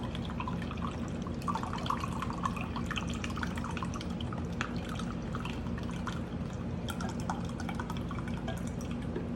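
Beef broth pouring and splashing into a pot, a continuous trickle with small drips and gurgles, close by and fairly quiet.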